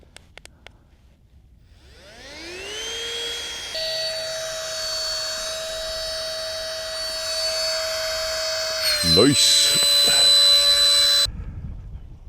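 An electric vacuum pump on a Fanwoli rolling travel backpack packed with clothing whirs up from silence to a steady high whine, shifting pitch near the end before cutting off; a voice speaks briefly.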